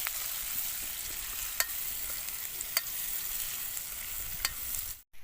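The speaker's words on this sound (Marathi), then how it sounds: "हा मी पण जरा ट्राय करतो कांदा भाजून घ्यायचा. हा. थोडंसं तेल टाकून घेतलं मित्रांनो आपण त्याच्यामध्ये." Onion fries in a little oil outdoors in a forest, giving a steady, even sizzle with a few sharp spoon taps against the pan, ending in a brief cut.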